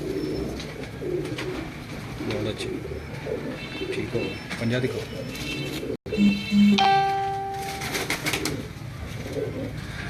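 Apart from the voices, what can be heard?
Teddy pigeons bred by a breeder cooing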